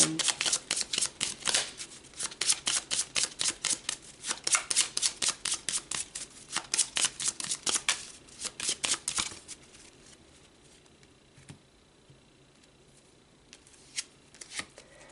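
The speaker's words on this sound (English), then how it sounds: "So let's pull some more cards and get more information." Tarot cards shuffled by hand in a steady run of crisp, rapid riffling flutters for several seconds, then a few scattered taps and slides as the deck settles, close and clear with no talking.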